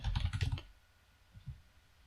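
Rapid typing on a computer keyboard, a quick burst of close, soft key clicks, then a pause and a couple of final keystrokes.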